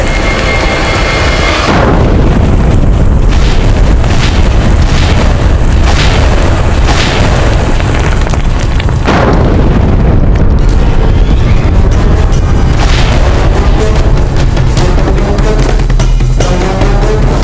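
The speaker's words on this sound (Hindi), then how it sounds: "धमाका हुआ है अकबर की छावनी में" A gunpowder store blows up in Akbar's army camp in a historical drama, with loud, deep booms near 2 and 9 seconds followed by a continuous heavy rumble and crackling debris.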